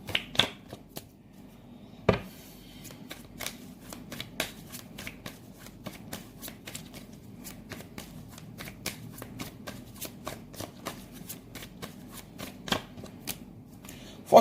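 Tarot cards are shuffled and handled in a quiet room: a steady run of soft, crisp riffles and flicks with a few sharper slaps as cards are drawn and laid down, all close and fairly faint, with no talking.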